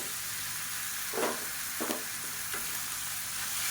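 Tomatoes sautéing in a pan for paneer gravy: an even hissing sizzle with a couple of brief stirring scrapes partway through.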